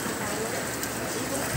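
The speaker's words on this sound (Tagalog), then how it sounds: "Inabot ng ulan." Rain falls steadily during an outdoor birthday gathering, a dense, even hiss that fills the whole moment without letting up.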